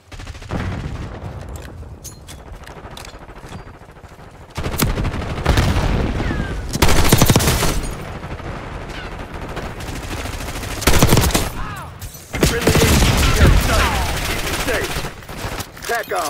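Rapid automatic gunfire and single shots crackle through Black Ops 6 multiplayer on the Babylon map, with dense bursts in several stretches and radio voice chatter underneath.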